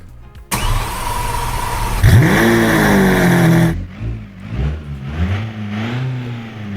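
A video game 1.7 liter turbo diesel wagon engine cranks and catches, then revs up loudly with a rising whine before dropping back to a rough idle with brief throttle blips.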